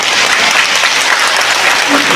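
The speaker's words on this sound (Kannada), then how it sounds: "ಮಹಿಳೆಯರು ಇನ್ನೊಂದ್ಸರಿ ಚಪ್ಪಾಳೆ" Women in a crowd at a Sharana cultural festival during Dasara celebrations in Chitradurga clap together in dense, steady, loud applause throughout, with faint voices blended into the crowd noise.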